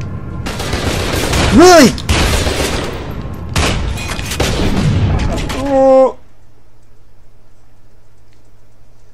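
Gunfire and grenade blasts from the video game FEAR 2, loud bursts of shots and booms across the first six seconds with someone talking over them, then near silence.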